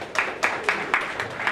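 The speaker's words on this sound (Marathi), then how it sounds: "टाळ्या होऊन जाऊ दे जोरदार." Loud applause welcoming senior citizens at a housing society general meeting, with bursts of clapping pulsing roughly every quarter second across the short stretch, close and lively.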